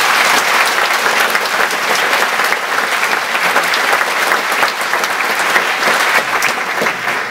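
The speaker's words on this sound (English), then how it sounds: "I'd just like to give her a round of applause" Sustained audience applause in a presentation hall, loud, dense and even throughout with no break.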